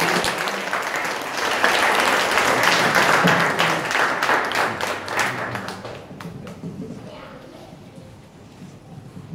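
Audience applause for a speaker at an author club session, a dense roar of clapping that swells and holds for several seconds, then thins to scattered claps and fades, with a voice beginning over the tail.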